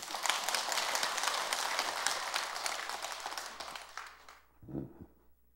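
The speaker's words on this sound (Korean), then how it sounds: "웃지만 말고 박수를 쳐야지" A temple audience at a Sunday Buddhist dharma service at Jogyesa claps together in a fairly quiet burst that thins out and fades, followed by a short low murmur.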